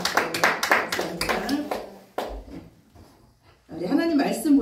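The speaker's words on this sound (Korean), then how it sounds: "환영의 박수." A small church congregation gives a brief welcoming applause for a newcomer, a short burst of distinct close hand claps that breaks off into a quiet pause before talking resumes.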